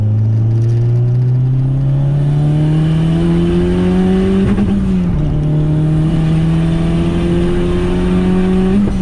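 Tuned car running E85, engine revving steadily upward through a third-gear pull, loud and close with a droning rising tone, a brief dip at the shift midway, then climbing again.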